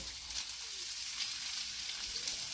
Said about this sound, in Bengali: এই সর্ষের তেলে একটু নাড়িয়ে নিলাম